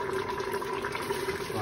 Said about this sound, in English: then I'm going to add another of hot water of the same amount again